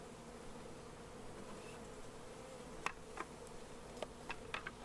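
Honey bee colony buzzing steadily at close range while frames are lifted during extraction from a rotten tree, a continuous hum with a few brief clicks and knocks near the end.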